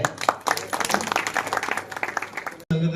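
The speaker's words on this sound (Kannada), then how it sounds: "ಎಲ್ಲರೂ ಜೋರಾಗಿ ಚಪ್ಪಾಳೆಯೊಂದಿಗೆ" An audience applauds loudly as a lamp is lit to open a public event, a dense burst of many hands clapping close and continuous, with voices mixed in before it cuts off sharply.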